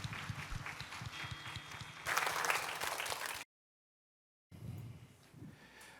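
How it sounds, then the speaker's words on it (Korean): Applause from a church congregation at an autumn thanksgiving and praise concert, a steady crowd clapping that swells louder for a moment, then cuts to silence before a softer stretch of noise resumes. "우리 다시 한 번 더 이 시간 주님 앞에 영광의 박수 올려드립니다"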